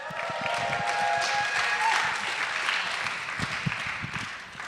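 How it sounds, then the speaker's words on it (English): An audience at an all-campus gathering applauds a prize winner with dense, sustained clapping, a few louder claps standing out and faint crowd murmur beneath. "Let's give her a round of applause"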